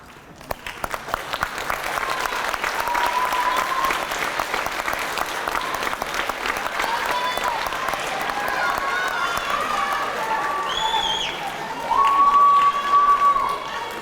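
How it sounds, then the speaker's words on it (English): An audience at a middle school graduation claps and cheers for the parents and guardians, a broad sustained wash of applause that swells louder near the end, with scattered whoops rising above it. "please give your parents and guardians a great round of applause"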